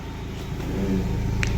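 A petrol car engine runs steadily after its spark plugs were cleaned, no longer misfiring, giving a smooth, even hum that rises slightly in loudness over a short stretch.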